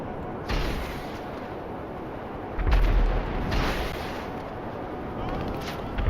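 Missile explosions in GTA 5 Online, deep booming blasts arriving in a few bursts over a constant rumbling game background, loud and heavy.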